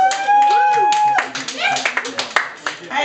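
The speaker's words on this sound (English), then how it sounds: "You can clap at that joke." At a stand-up comedy show, audience members clap at a joke in a few scattered, uneven claps that sit under and after the comedian's talking.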